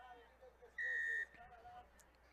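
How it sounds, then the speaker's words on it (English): A referee's whistle at a Jamaica versus Guyana football match gives one steady, sustained blast of about half a second, standing out sharply over the low murmur of crowd and commentary. "There is the whistle."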